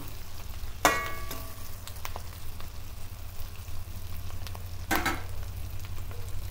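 Bitter gourd slices and onions frying in a pan, a soft steady sizzle broken by two sharp scraping stirs of a spatula, close and fairly quiet.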